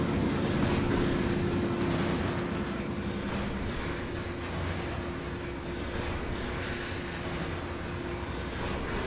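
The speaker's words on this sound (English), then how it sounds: "You can just hear the struggle of those engines." Steady, low rumble of straining locomotive engines on Appalachian mountain track in the Trainz rail simulator, with a constant drone and a faint rail clatter that goes on throughout without speech.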